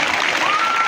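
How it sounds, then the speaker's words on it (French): A crowd at a school award ceremony gives a short, bright burst of clapping, close and fairly loud, lasting under a second. "Donc on va applaudir EPP Bonguera 2."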